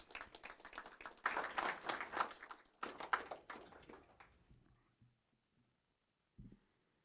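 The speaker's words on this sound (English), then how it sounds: "Let's give them a warm round of applause as they join us." Applause for veterans at a December city council meeting, a dense burst of clapping from the seated audience that swells for about four seconds, then thins into a few scattered claps before fading to near silence.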